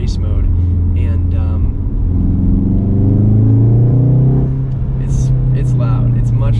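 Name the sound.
Remus valved catback exhaust on Mk7.5 Golf R, race mode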